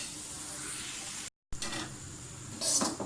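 Chopped vegetables and capsicum sizzle in a hot pan with a steady, close frying hiss, briefly cut off and then resuming, with a louder burst of sizzling near the end as the pan is stirred.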